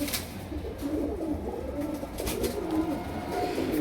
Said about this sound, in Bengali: কবুতরগুলো অনেক ছটফটা